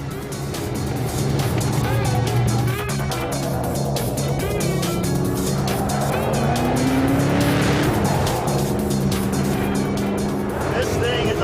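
A 1994 Ford GT40 race car drives hard on a racing track, its engine droning loudly and steadily throughout with rising and falling pitch, tires squealing as it slides into a drift, and someone talking over the noise.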